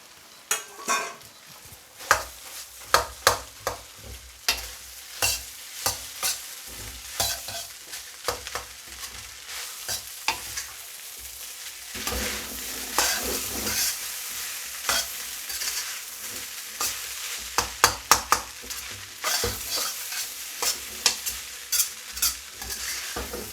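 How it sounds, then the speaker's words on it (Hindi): Boiled rice and eggs frying in a pan, Korean street-food style, with a steady sizzle and frequent sharp scrapes and clanks of a spatula stirring against the pan. "हमारे चावल बहुत ही ज़बरदस्त फ्राई हो रहे हैं"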